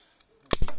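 Japanese Okatsune secateurs snap shut through a cut, a sharp close click followed quickly by a second crisp snap, alone in quiet surroundings.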